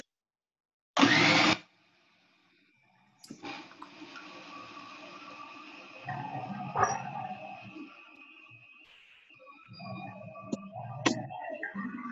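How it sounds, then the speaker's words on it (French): A blender or S-blade food processor whirs through soaked cashews with yeast flakes and no water for raw cashew cheese. A short loud burst comes first, then a longer, fluctuating churning run with uneven pulses. "Et là, on va les blender sans eau."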